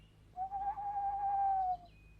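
An owl in the children's animated series The Herbs gives a single sustained hoot, clear and steady, held for over a second against quiet background.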